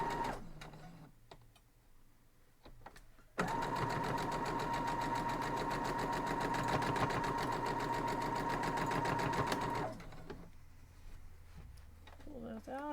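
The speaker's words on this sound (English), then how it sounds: "And now we're going to just go sew them both up." A sewing machine stitching quilt block pieces runs in one steady, fast whirring burst of about six seconds, with quiet handling noise and faint rustling before and after.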